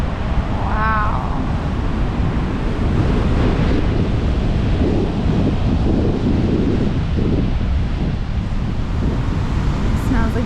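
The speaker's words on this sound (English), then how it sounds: "Some big waves." Big ocean waves break on the shore at Rialto Beach during a high tide, a steady broadband roar and wash that fills the whole stretch with wind noise mixed in.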